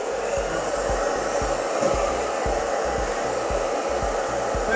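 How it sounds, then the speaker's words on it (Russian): A hair dryer blows with a constant loud whoosh and steady motor hum, close up, warming a frozen Protherm gas boiler, with no voices. "Для этого используем обычный фен."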